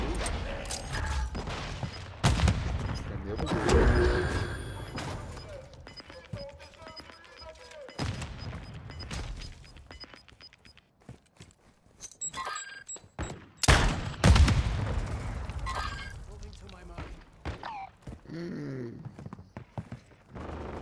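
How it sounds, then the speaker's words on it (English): Shotgun gunfire in the video game Call of Duty Warzone 2.0 comes as loud, booming blasts amid mechanical clatter and other game effects, with a player talking over the action. "Oh, it's a shotgun."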